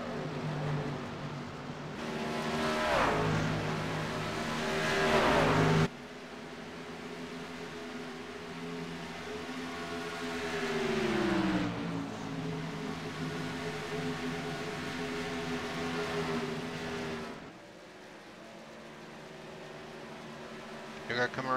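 Racing trucks in a truck series race at Homestead-Miami Speedway: a sustained, droning engine roar with trucks sweeping past in rising and falling pitch, heard under continuous commentator talk.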